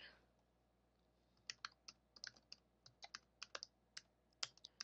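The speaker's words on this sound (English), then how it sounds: "I'll just start typing on this one" Typing on a Cougar Vantar keyboard, a series of quiet, sharp key clacks that start sparse and then come in an irregular run, fairly close with a low background hum.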